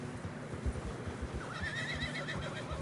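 Horses trot through snow in the video game Red Dead Redemption 2 with steady clip-clop hoofbeats, and a high whinny rises partway through, set against a dense, busy background.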